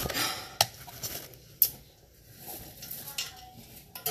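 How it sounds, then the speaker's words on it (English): Bacon being stirred into pasta Romano in a pan, with soft scraping and clinks of a utensil against cookware over a faint sizzle, a couple of sharper knocks standing out, and no talking. "Give this a stir."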